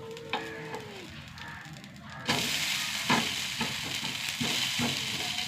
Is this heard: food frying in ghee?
yes